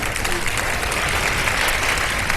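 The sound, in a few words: studio audience applause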